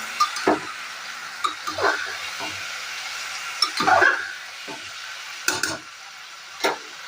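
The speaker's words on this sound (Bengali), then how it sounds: "আমি এটা একটু ভালো করে একটু নাড়াচাড়া করে নেবো" Food is stirred and fried in a pan, with a low, soft sizzle and a few scattered clinks and scrapes of the spoon against the metal, quiet overall.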